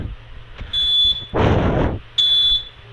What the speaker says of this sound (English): the buzzer keeps on beeping